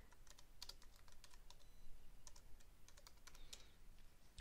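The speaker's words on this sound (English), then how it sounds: "so we're going to type in" Rapid typing on a computer keyboard, a steady run of close, crisp key clicks with uneven rhythm and no speech.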